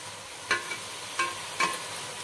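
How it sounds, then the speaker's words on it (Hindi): Mixed vegetables fry gently in a spoonful of ghee while a utensil stirs them, giving a faint sizzle and three soft, separate scraping strokes. No one speaks. "इसमें मैं ये सारी मिक्स सब्जियाँ जो है ये डाल के ना थोड़ी देर इनको भून लूँगी"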